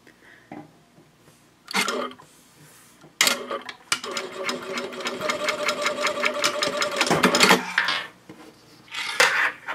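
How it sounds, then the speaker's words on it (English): A sewing machine bastes D-ring tabs for a wristlet pouch. Metal clinks from the D-ring hardware come first, then a steady run of rapid stitching for about three seconds, then more handling clatter, with no talking. "And then you just want to go ahead and baste along the bottom here."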